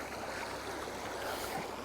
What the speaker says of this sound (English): the cold water is coming down this canyon here